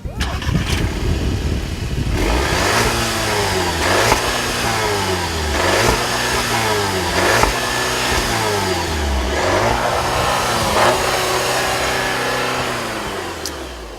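A VW car engine revs repeatedly to about 3,500 RPM, making roughly half a dozen loud, close rising-and-falling sweeps after it catches.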